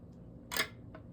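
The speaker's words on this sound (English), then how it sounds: "I'm going to cut off the end." Scissors snip through a weft end at a floating selvedge on a loom: one crisp, close cut, followed a moment later by a fainter second snip in a quiet room.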